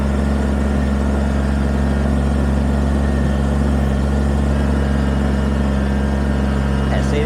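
A Kubota BX23S compact tractor's small diesel engine runs steadily at a constant idle, a loud, even rumble with no breaks.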